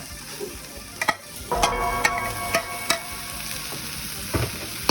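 Beef from Korat sizzles steadily as it is stir-fried in a pan at home, with a constant frying hiss and occasional sharp scrapes and clicks from stirring utensils.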